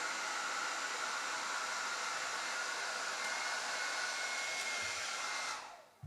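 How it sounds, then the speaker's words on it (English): A hair dryer runs steadily to keep glue warm during a snow globe water replacement, giving a continuous close, even whoosh that cuts off near the end. "leaving the hair dryer on to keep the glue warm as it goes around"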